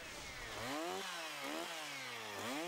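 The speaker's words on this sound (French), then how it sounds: "j'aime la tronçonneuse, je sais pas pourquoi." A chainsaw runs close by, its engine revving up and down in repeated surges with a buzzing whine.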